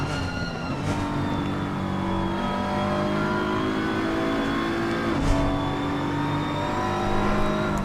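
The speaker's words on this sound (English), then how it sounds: "So there's 5 cars here, all lapping about the same, all just waiting for something to happen." Several race cars lap the Zandvoort circuit in a pack, a steady engine drone holding pitch with a brief shift in tone partway through, loud and continuous without talk.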